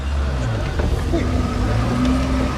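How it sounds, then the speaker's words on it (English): Lada Niva engine droning and rising in rev as more throttle is applied off-road, a loud continuous motor sound with people talking over it. "give it more gas"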